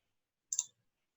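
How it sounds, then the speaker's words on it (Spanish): A computer mouse double click, heard as one brief, faint burst of clicking in otherwise quiet surroundings. "Doble clic fuera."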